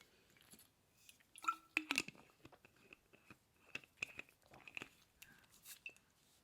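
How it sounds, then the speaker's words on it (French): A person takes a sip of water, with small wet mouth clicks, a gulp and soft swallowing sounds spread through a quiet moment, close to the microphone. "Je prends encore une gorgée d'eau."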